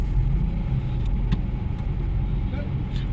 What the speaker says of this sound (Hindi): पर इतना ट्रैफिक हो रहा है